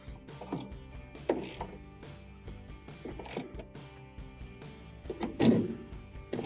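Bolt being tightened by hand on a Frigidaire washer drain pump, with a series of faint close ratcheting clicks and small metallic knocks, no talk.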